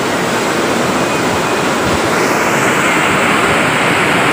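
Steady, loud rushing water fills the scene, a dense broadband roar with no pauses, close and constant like a fast-flowing river.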